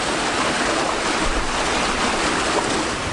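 A sailboat pushing about 7 knots through waves off Kvitsøy Island, Norway, with a steady broadband rush of water and surf along the hull mixed with wind noise, continuous and fairly loud throughout.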